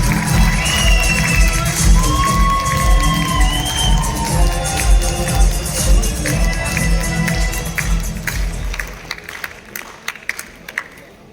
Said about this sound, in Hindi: दोनों हाथ ऊपर उठाकर तालियां बजा करके बुलाइए आदरणीय विष्णु सक्सेना